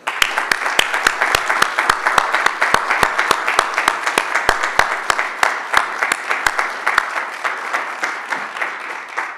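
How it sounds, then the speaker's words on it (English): Steady applause from a crowd honoring award recipients at a dinner, many hands clapping in a continuous rhythmic patter that holds at an even level throughout. "I'd like to ask that we all give a hand of applause for the honorees."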